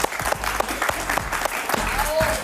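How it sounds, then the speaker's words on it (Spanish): A studio audience claps for Dr. Marquina on a TV talk show, a brief burst of applause with some voices mixed in. "Un aplauso para el doctor Marquina, por favor."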